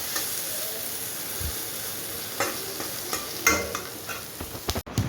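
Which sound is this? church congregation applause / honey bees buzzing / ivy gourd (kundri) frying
ivy gourd (kundri) frying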